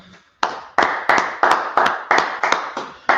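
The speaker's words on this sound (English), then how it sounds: "go ahead and clap it up" A few people clap in near-unison, about eight sharp, evenly spaced claps after a brief pause, close and loud against a quiet room.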